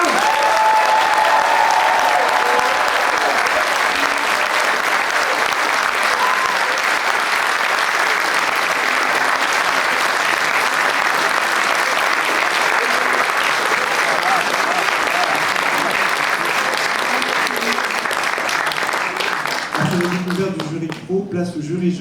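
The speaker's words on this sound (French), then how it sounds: "Un tonnerre d'applaudissements pour le président de la seconde édition du Festival Jeunesse en cours" Loud, sustained applause from a ceremony audience greets the festival jury president at the Festival Jeunesse En Court 2023 awards, steady clapping filling about twenty seconds before it thins out and a voice begins at the end.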